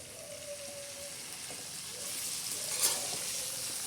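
Cumin seeds sizzle in hot oil for a tempering over a chilli and lemon pickle, a soft steady crackle that grows a little louder toward the end, with a faint tone and a few light clinks.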